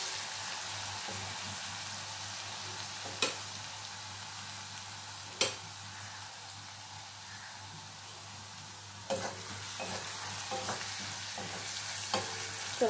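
Chopped onion frying in hot oil with garlic paste gives a continuous sizzle, broken by a few sharp clanks and scrapes of a spatula stirring the pan, with no talking.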